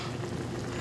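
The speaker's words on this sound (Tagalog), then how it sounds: "Yan ang igigisa natin yung pusit." Squid sizzling as it sautés in a hot pan for adobong pusit, a steady close frying hiss filling the short moment with no voices.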